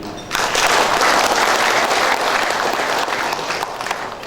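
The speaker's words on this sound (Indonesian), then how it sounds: "Tepuk tangan dulu." Applause from a seminar audience breaks out and holds steady as a dense, loud wash of clapping, slowly thinning toward the end with no voices over it.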